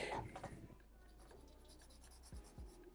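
Pen or pencil scratches across paper while coloring in dark areas of an anime character drawing, quiet rubbing strokes with a few short louder scrapes, faint and close.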